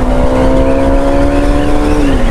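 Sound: Kawasaki Ninja ZX10R motorcycle accelerating hard

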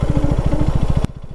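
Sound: motorcycle engine making an unidentified noise

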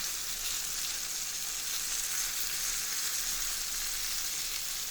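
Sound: fish frying and sizzling in oil

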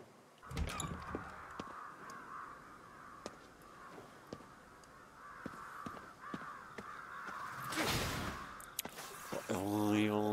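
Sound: excited crows cawing in video game Ghostwire Tokyo

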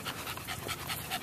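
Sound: dog panting on the beach

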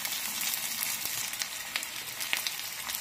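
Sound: garlic, ginger and green chillies sizzling in hot oil

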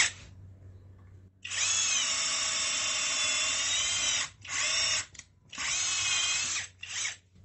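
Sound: CHIGO cordless drill drilling at high speed

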